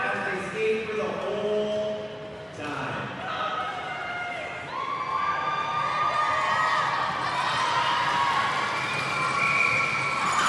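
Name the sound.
crowd noise from fans at a skills competition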